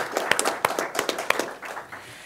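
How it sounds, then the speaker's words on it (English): A short burst of clapping from a few people at a first responder network board meeting, sparse and uneven individual claps close by that fade out after about two seconds. "give her a big round of applause"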